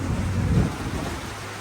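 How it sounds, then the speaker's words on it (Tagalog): Steady broadband roar of heavy typhoon rain with a low rumbling wind swell early on, continuous and fairly loud with no voices, in Coron, Philippines. "sobrang lakas ng ulan at hangin"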